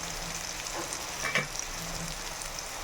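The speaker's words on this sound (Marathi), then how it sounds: "ग्रीन चिलीज आणि अनियन फ्राय होत आहे." Green chilies and onion frying in a pan with turmeric and salt, a steady soft sizzle running throughout with a brief stirring scrape near the middle, fairly quiet and close.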